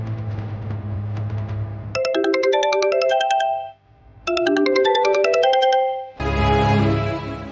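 A melodic phone ringtone plays in two loud, chiming bursts with a short gap between them while a call to the police is placed, then a brief noisy burst follows.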